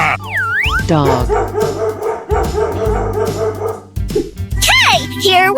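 A dog in a 3D animal sliding video game barks and yips in a bright, bouncy series, loud and upfront, mixed with game music and springy cartoon effects.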